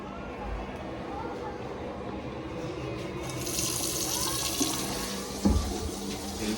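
Water runs from a tap into a newly plumbed sink and through its drain on a construction job, a continuous rushing and splashing that swells louder partway through, with a brief clunk near the end.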